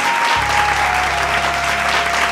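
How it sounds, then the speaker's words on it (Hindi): Loud, dense audience applause welcomes an actor onto the stage at a Bhojpuri comedy and music show, a steady unbroken wash of clapping with a faint low hum beneath. "एगो जोरदार ताली स्वागत"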